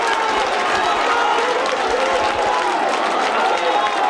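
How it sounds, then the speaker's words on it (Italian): Pro Favara football fans in the stands cheering and clapping after a goal, a dense continuous crowd roar with a commentator talking over it. "Esultano i tifosi della Pro Favara"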